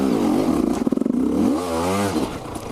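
A motorcycle climbs a steep uphill trail, its engine revving hard and rising in pitch, with a brief clattering burst partway through as the front lifts; loud and close throughout, with no talking.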